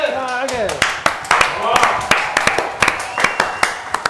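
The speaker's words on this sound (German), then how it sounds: "Aber natürlich ein ganz, ganz großer Applaus für meine beiden Gäste, Matteo und Fritz, ganz groß!" Applause for two guests on a German music quiz show: a run of sharp, evenly spaced claps, loud and close, with brief talk and tonal sounds at the start.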